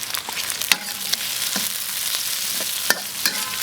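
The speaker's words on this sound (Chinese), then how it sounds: "把这洋葱炒一下啊， 炒出香味来。" Onion and Sichuan peppercorns stir-frying in a wok, a bright steady sizzle punctuated by several sharp scrapes and knocks of the spatula, close and with no talking.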